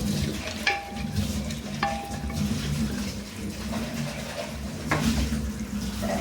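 Whole spices such as cardamom, bay leaf, cloves, star anise and cinnamon sizzle steadily in a pan for veg biryani while a spoon stirs and scrapes, with a few sharp metallic clinks over the continuous frying hiss.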